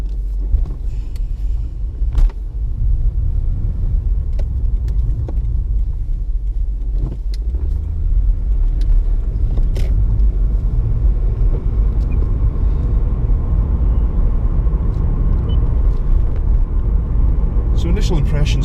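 A Lexus IS250's engine hums low and steady while driving, a continuous rumble with occasional clicks and brief talk over it.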